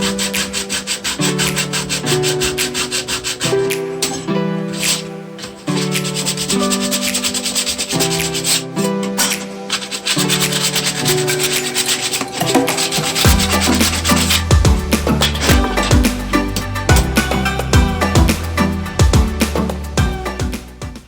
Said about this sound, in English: A little bit of 120 sandpaper.